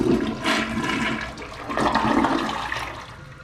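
A 2021 Proflo Foremost Eco-To-Go toilet flushes with a clockwise swirl: a loud rush of water that surges, dips briefly, then surges again before easing off, with no voices.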